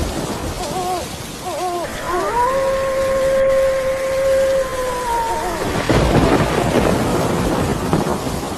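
Heavy rain pours steadily while a long, loud horn-like tone holds for several seconds, then the downpour roars on; no voices.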